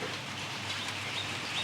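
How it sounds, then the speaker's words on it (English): Rain falls steadily on Koh Samui island, a dense even hiss with no breaks, moderately loud and close, with a faint bird note or two above it and no talk. "you hear the sound of the rain"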